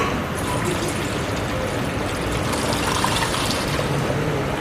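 Plain water pours steadily in a cooking class kitchen, a continuous broad splashing rush that fills the clip at a fairly loud, even level with no pauses.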